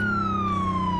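A loud, steady police siren wails continuously at close range, its tone sliding slowly downward, with nothing else competing.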